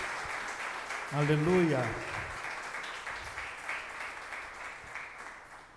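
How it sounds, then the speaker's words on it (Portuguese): A church congregation applauds the Lord in continuous, fairly soft clapping, while a voice briefly calls out in the middle. "Aplauda o Senhor mais uma vez, em nome de Jesus."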